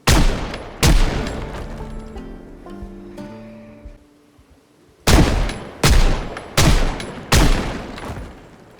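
Gunfire in the video game Rooftop Sprinters: a loud sharp shot, another right after, a soft tonal stretch, then four heavy evenly spaced shots close up, without talk.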